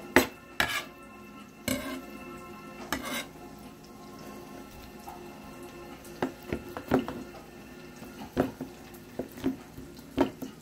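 A chopping knife strikes vegetables and other quesadilla fillings in a metal pan, giving irregular, sharp close clacks and scraping bursts with pauses between. No one talks.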